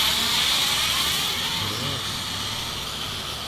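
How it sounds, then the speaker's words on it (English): A car passes on an outdoor road while a camera drone flies nearby: a broad, rushing roar is loudest at first and then slowly fades away, mixed with steady airy hiss. "I think I hear a car"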